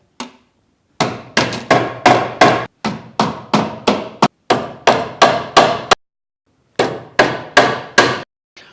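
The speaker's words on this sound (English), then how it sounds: "I'll hammer the 4 nails in." Hammer strikes drive nails through the foot of a 2-inch LED adjustable new construction recessed light housing set against a joist, a close, loud run of sharp metallic blows in quick bursts separated by short pauses.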